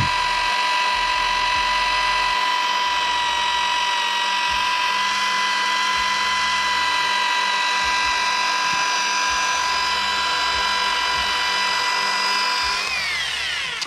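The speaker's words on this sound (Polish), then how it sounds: "polerując lampy, żeby nie były nagrzane." Machine polisher working paste across a car headlamp lens, a steady high motor whine with harmonic tones held throughout, close and loud, shifting slightly near the end.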